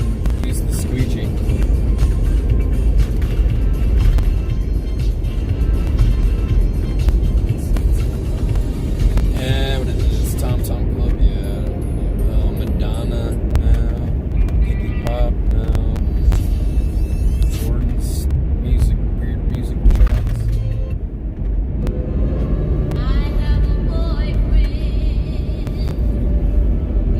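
A car cruises steadily along the road on a trip out of town, giving a continuous loud rumble of engine and road noise from inside the cabin, with occasional brief tonal sounds and faint other vehicles passing.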